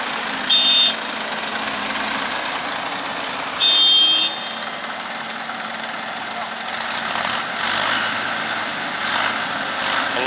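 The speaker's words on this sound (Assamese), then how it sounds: "এনেকৈ আপোনালোকে দেখিছে আপোনাৰ ট্ৰেক্টৰে" A tractor works at a bridge construction site on the Majuli to Lakhimpur route, its engine a steady mid-distance drone with two short electronic beeps early on and rougher machinery noise building later.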